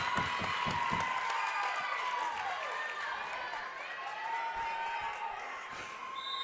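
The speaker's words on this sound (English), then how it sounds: "Crowd's into this one, I'll tell you." Spectators at a high school playoff volleyball match between Redbank Valley and Keystone make a loud, sustained crowd roar with cheering and clapping, and a commentator talks over it throughout.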